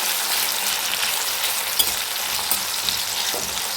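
Salted tomato fries in a pan while being stirred, giving a close, steady crackling sizzle with a few small pops. No one speaks.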